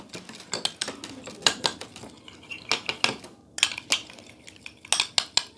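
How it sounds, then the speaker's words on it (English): Colgate toothpaste being stirred into a hair-dye mixture in a bowl, giving a quick run of sharp clinking and scraping taps of a spoon against the container, close and fairly steady, with no talking. "Add half tablespoon of Colgate toothpaste in it and mix it well."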